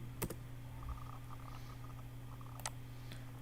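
A few faint keystrokes click on a computer keyboard, scattered irregularly over a quiet background hum, with no talk.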